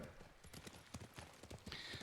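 Horse hooves clip-clopping at a riding pace in the video game Ghost of Tsushima, quiet but regular beats with a faint tonal game sound entering near the end.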